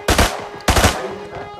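Two loud bursts of rapid gunfire from a shooter video game, each a quick rattling volley about half a second apart, with a faint tail between and after.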